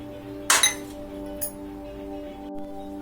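A spoon clinks against a container while milk powder and flour are mixed, two bright chinks close together followed by a fainter tap over a low steady hum.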